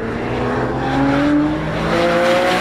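A 2012 Porsche 911 Carrera is driven hard, its loud sustained engine note climbing and holding steady with a rising whine and hints of tire squeal, heard alone without voices.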